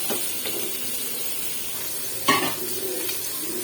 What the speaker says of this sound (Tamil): ஃப்ரை ஆகட்டும்